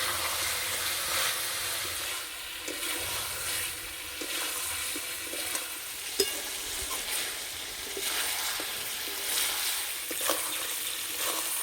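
Chicken posto sautéing in a pan, a steady moderate sizzle with occasional stirring scrapes and small crackles, heard alone without talk.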